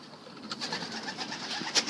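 Young Portuguese pigeons in a coop give soft, faint cooing and rustling calls, a few brief chirpy notes over a low steady background.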